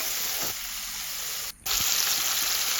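Lentils sizzle steadily in hot extra virgin olive oil, a loud, close, continuous frying hiss with a brief dip partway through and no voice.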